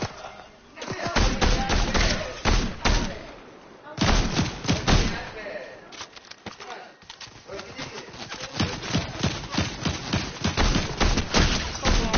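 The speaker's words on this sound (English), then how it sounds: "Carter, someone's shooting." Scattered gunshots ring out at a distance near bushes outdoors, a string of irregular sharp reports spread through the stretch, mixed with people talking and rustling nearby.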